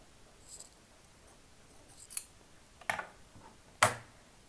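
Scissors snip through excess crochet yarn in three sharp, close cuts, spaced about a second apart, in a quiet room with no talking.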